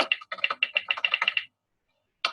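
Rapid keystrokes on a computer keyboard come in a steady, clicky burst for about a second and a half. A short silence follows before the typing starts again, close and clear with no voices.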